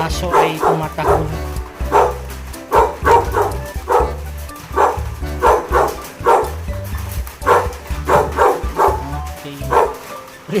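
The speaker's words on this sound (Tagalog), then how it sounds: "Yan, yung aso ay tumatahol." A dog barks again and again at a house in Baguio City, loud and near. Each bark is sharp and the barks come in uneven clusters, with a voice speaking quietly in between.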